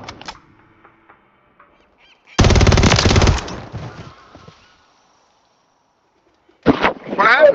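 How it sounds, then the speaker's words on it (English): A single loud, rapid burst of automatic gunfire in the video game Modern Warfare 3 during a clan private match, lasting about a second, with a brief voice afterward and quiet ticks before it. "I thought he was shooting me from the back, though."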